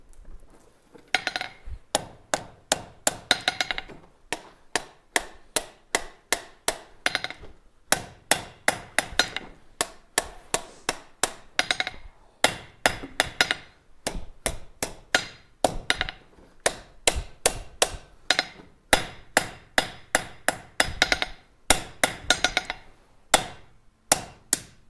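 Hot steel hammered on an anvil while forging tongs, a long run of sharp metallic strikes in quick irregular bursts with brief pauses, close and loud with no talking.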